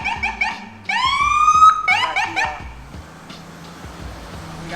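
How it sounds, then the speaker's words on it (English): A wailing ambulance siren sweeps up and down nearby on a Brooklyn street with a sharp electronic yelp, then fades, leaving street ambience. "We got the ambulance going on over here."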